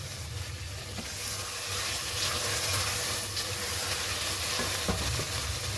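Aloo gosht masala with meat simmering and sizzling in a pot, a steady faint bubbling hiss with occasional soft stirring scrapes, close and continuous, no voices.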